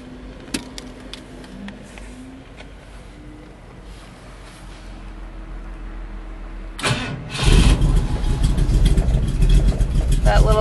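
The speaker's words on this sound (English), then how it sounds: "This is how you start the car." A 1953 Ford F100 pickup engine cranks and catches around the middle, then runs loud and rough at idle, close by, after a quiet stretch with faint background noise.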